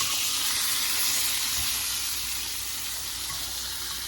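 Butter sizzles steadily in a hot pan, a dense, even hiss that holds at a constant level for the whole stretch, close up, with no talking over it.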